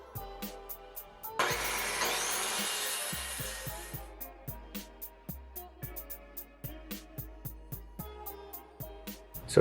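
A power saw cuts wooden studs for a garage wall frame, with one long loud whining cut followed by a rapid series of short sharp clicks or taps at close range.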